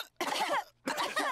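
Cartoon pig character coughing in two short, hoarse bursts separated by a brief pause, close and fairly clear against quiet background.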